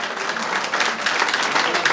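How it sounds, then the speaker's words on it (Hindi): Loud, continuous applause from a crowd fills the full two seconds at a ceremony honouring a renowned artisan of sweets and bakery goods with a turban. "एक दफा जोरदार तालियां दी।"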